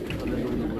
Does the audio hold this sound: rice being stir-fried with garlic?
no